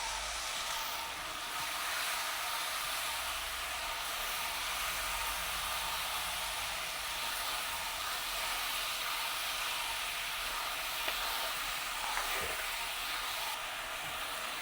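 A steady, soft hiss of oil sizzling in a pan as ingredients sauté for a dried-fish curry, constant and low throughout with no voices.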